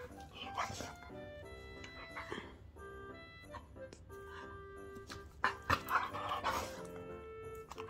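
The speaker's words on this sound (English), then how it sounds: "Why does the dog make this sound" A dog whimpers and yips in a home, with high, whiny cries rising and falling over several seconds, close to the microphone and occasionally louder in bursts.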